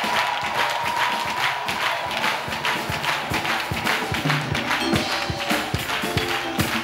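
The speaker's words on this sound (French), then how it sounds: "Clap for Jesus Christ" A church congregation at a deliverance prayer service claps along in a quick, rhythmic beat, many hands striking together amid crowd noise and scattered cheering, loud and continuous.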